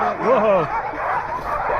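Sled dog puppy, eleven months old, at a dogsledding camp on an Alaskan glacier, giving a rising whiny yip and short barky whimpers amid outdoor noise, with people talking nearby.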